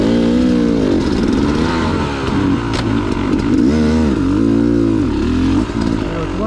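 A dirt bike engine revs loudly and continuously close by, its pitch rising and falling in repeated throttle swells with a steady mechanical drone underneath.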